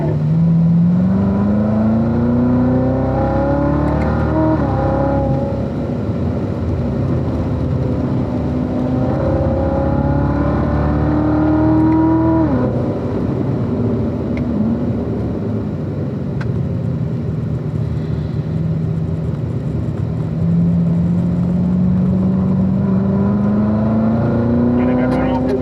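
Car driven on the Spring Mountain race track, its engine repeatedly revving up through the gears and easing off, loud and close throughout, with an instructor's voice talking over it.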